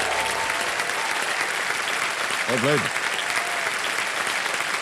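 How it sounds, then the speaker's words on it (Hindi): Studio audience applauding on a quiz show set, a dense steady wash of clapping filling the whole stretch, with a brief voice rising over it midway. "तालियां बज जाएं इनके लिए।"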